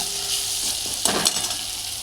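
Onion and tomato fry with a green paste of coconut, garlic, coriander, green chili and ginger in a pan, giving a steady close sizzle with a couple of brief stirring scrapes.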